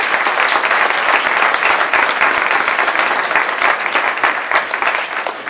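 A church congregation at a Friday service applauds loudly, a dense, even wash of many hands clapping that holds steady throughout.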